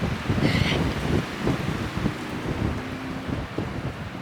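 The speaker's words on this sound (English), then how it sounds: "it's really windy, but it feels really, really nice out right now" Strong wind buffets a handheld microphone outdoors, a loud steady rumbling roar with gusty thumps throughout.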